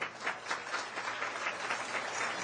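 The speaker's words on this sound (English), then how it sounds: "if you'd please stand to give them a round of applause" Applause for national committee members at a Republican leadership summit, a hall of people clapping in a steady, moderately loud patter that carries evenly through to the end.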